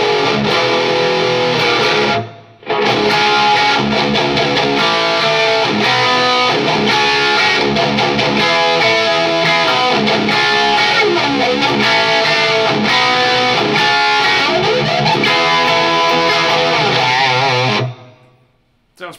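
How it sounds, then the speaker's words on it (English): Electric guitar played through an EVH 5150 50-watt amp, dry down the middle with a stereo plate reverb on the sides, loud and distorted with dense sustained riffing, a brief gap near the start and a ringing tail at the end. "all you're going to hear is the stereo plate reverb on the sides, but right down the middle is just dry guitar"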